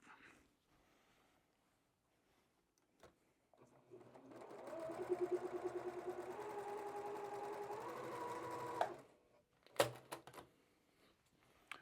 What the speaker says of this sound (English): So now we're just going to sew that back together